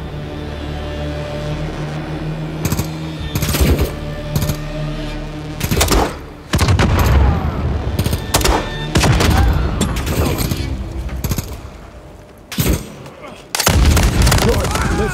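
Heavy gunfire in Call of Duty: Modern Warfare III, with loud bursts of automatic fire and booming shots crowding together in a dense, near battle that leaves only brief pauses.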